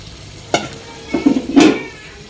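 Tomatoes go into a frying pan in a home kitchen and get stirred, with a few sharp scraping clatters of the utensil over a soft sizzle, loud and close.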